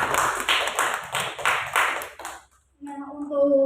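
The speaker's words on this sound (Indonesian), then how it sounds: "Beri tepuk tangan untuk Mbak Hilmi." Students in a microteaching classroom clap for a classmate in several short, bunched bursts of near, moderately loud clapping. The clapping stops abruptly, and a faint ringing tone follows.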